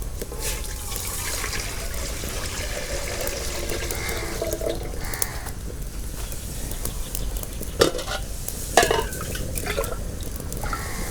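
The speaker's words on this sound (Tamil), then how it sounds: "தண்ணி ஊற்றிக்குவோம்." Water runs and splashes steadily into a cooking pot for boiling eggs, a continuous close pouring stream with a few clanks of metal.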